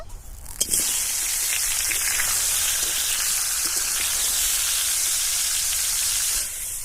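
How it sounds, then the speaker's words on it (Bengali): Raw mango pieces hit hot oil in a pan, bursting into a loud, steady crackling sizzle that holds close and even for several seconds before easing slightly at the end. "আমি এই আমটিকে তেলের মধ্যে দু তিন মিনিট মতো ভেজে নেব"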